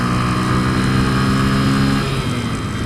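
A Honda CBF125 single-cylinder motorcycle engine pulls steadily in third gear around 30 to 40 mph, its droning note held close and loud with heavy wind noise, then easing slightly near the end.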